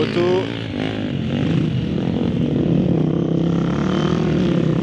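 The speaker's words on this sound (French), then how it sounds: "Moto." A rally motorcycle engine at the Dakar Rally drones past at a distance, a steady buzzing roar that rises briefly then settles, mixed with background crowd noise.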